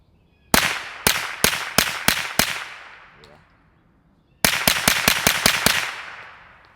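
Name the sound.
Retay RXP22 .22 pistol shots at tuna cans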